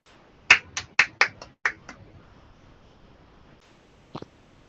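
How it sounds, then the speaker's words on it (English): A brief burst of sparse, uneven claps or snaps for a college dean during an online program, about half a dozen quick sharp strikes close up, followed by quiet and one last isolated pair. "A virtual applause."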